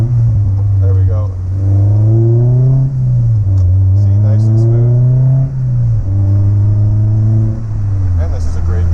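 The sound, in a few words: Honda S2000 engine during double-clutch downshift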